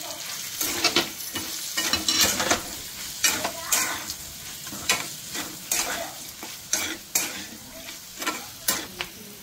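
Potatoes frying in a pan while stirred with two spoons of chili powder and salt: a steady close sizzle under repeated scraping strokes of a spoon, with no talking.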